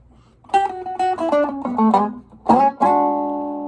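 Clean electric guitar plays a Chicago blues stock turnaround, a descending run of plucked double-stop notes followed by two struck chords, the last left ringing, close and solo with no voices.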